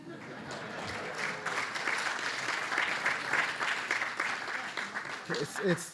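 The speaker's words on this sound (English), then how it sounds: "Pause for applause." Audience applause at a civic event in Eugene, Oregon: a broad wash of clapping from a sizable crowd, swelling and holding steady for several seconds.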